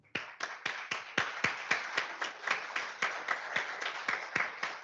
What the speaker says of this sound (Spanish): Por favor, démosles un aplauso.